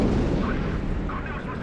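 Heavy main battery guns of the Japanese battleship KII firing in World of Warships, a loud, dense booming blast that fills the short clip with rumbling roar.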